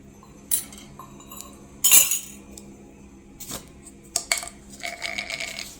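Metal spoon stirring salt into a little water in a small bowl, giving sparse light clinks and taps against the bowl, quiet and close, ending with a faint run of rapid tinkling.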